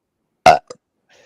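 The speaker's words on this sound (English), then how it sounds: "Sorry for the burp." A single short, voiced burp from a man, loud and close, followed by a faint second catch of breath in otherwise quiet surroundings.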